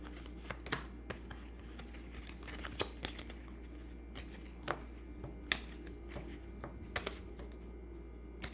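Oracle cards are shuffled by hand in soft, close riffles and slaps with irregular sharp ticks, quiet and without speech over a low steady hum.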